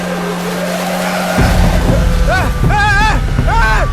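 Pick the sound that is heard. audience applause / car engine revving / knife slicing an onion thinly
car engine revving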